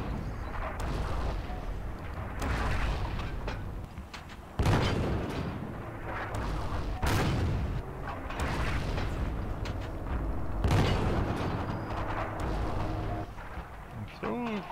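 Artillery shells fire and land in the World War II multiplayer game Forgotten Hope 2, heavy booms and thuds recurring every few seconds over a steady rumbling battlefield din, with players talking throughout.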